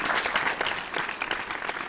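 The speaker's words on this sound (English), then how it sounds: "A big round of applause to our contestants." Audience at a school quiz competition gives contestants a round of applause, a brief burst of steady, fairly faint clapping from a crowd.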